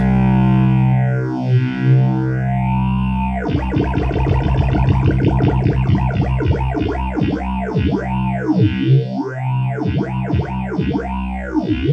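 Fully wet phaser effect signal from a BP Synth (Black Pill) effects unit, a loud distorted tone whose sweeping notches rise and fall rhythmically, speeding up after a few seconds into fast, continuous swirling cycles.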